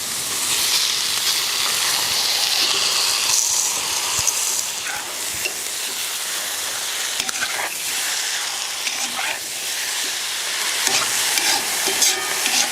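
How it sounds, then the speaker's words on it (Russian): Steady, close sizzling of chicken frying in a pan, with occasional stirring scrapes and crackles throughout, no talking. "Немного курочку прижариваем."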